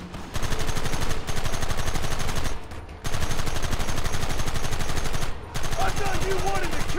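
Sustained, dense gunfire from the Red Dead Redemption video game, loud and nearly continuous, broken by two brief lulls around the third and sixth seconds, with a hint of voices beneath the din.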